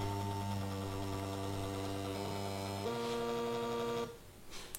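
A Paperang mini thermal printer printing a photo, giving a steady close mechanical whir with tonal hum that steps up partway through, then stops with a faint rustle as the paper comes out.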